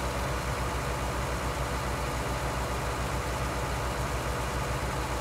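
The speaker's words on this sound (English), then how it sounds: "Oh, a nice tractor, Mossy." A tractor engine in Farming Simulator 19 runs steadily the whole time, a loud, even low rumble with a broadband hum and no change in pace, with no voices over it.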